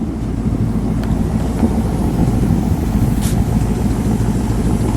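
A 1957 Ford Fairlane 500 Skyliner retractable idles on aftermarket exhaust, a steady close low rumble holding evenly throughout without talk.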